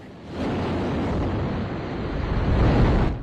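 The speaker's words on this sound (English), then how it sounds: "The Space Launch System rocket lifted off from Kennedy Space Center just before sunset" Space Launch System rocket lifting off from Kennedy Space Center on the Artemis 2 moon mission, a loud, continuous broadband roar that swells within the first half-second and rumbles on steadily, heavy in the low end.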